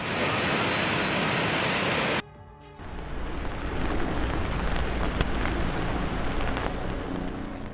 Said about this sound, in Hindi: लगातार बारिश ने लोगों का जीना मुहाल कर दिया है।